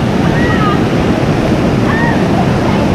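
A river rushes down in a loud, continuous roar of turbulent water with wind buffeting the microphone, while faint voices are heard under it.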